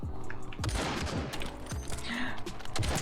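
Rapid video game gunfire crackles in dense bursts of close shots, layered over busy game sounds with no clear talk.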